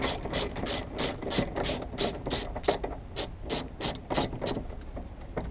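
A ratchet wrench clicks in quick, steady bursts as it removes a 10 mm bolt holding the rear door frame of a 2017 Honda Civic sedan, the sharp metallic ticks close and continuous with no talking.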